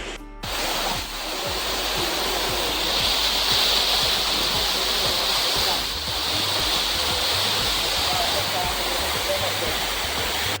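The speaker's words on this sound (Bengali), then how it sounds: "সমস্ত জলগুলো ড্যাম থেকে ওভারফ্লো হয়ে তারপর নিচেতে আসে" Water overflowing from a dam and pouring down into rock-cut water tanks at the Kanheri Caves near Mumbai, a steady broad rushing roar that holds constant throughout, close and loud.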